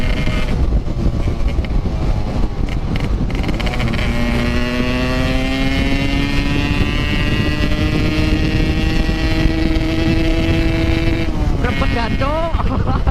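Yamaha Vixion motorcycle engine revving loudly while riding, a sustained close engine roar with pitch climbing steadily through a long pull and easing near the end, heavy wind noise over it.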